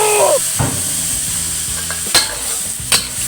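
Basil pork leg stir-fry sizzling loudly in a hot pan, with a few sharp scrapes and stirring knocks of a utensil against the pan over a continuous frying hiss.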